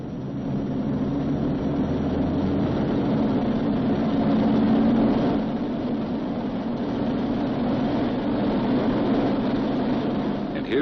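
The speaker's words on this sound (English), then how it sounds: "He releases the parking brake and adjusts the engines for full military power." A WWII B-29 Superfortress's radial engines held at full military power for takeoff, a dense continuous roaring drone with a steady low hum, loud and unbroken.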